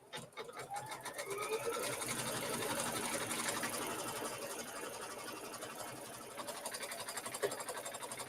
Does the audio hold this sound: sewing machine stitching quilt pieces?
yes